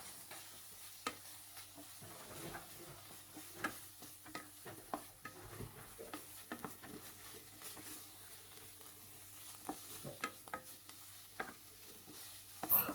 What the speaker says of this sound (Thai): แล้วคราวนี้เชฟก็จะใส่หมูสามชั้นลงไปเลยครับ เราจะ ลวนหมูสามชั้นให้สุกให้หมดเลยนะครับ